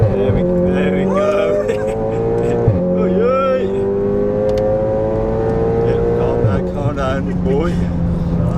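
Seat Leon Cupra accelerating hard on the Nürburgring circuit, its engine note loud and close from inside the cabin, rising in pitch through the gears with sharp drops at each shift.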